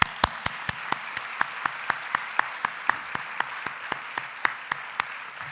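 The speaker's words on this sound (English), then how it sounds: "give them a round of applause" A round of applause at a health and wellness event, heard as a sparse, steady run of crisp individual claps at a quick, even pace, close and fairly clear, with no talk over it.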